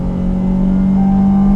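A 2019 Dodge Charger GT with an added aftermarket exhaust revs up, its engine and exhaust a loud, steady low droning hum that builds slightly over a second and a half, close by with no talking.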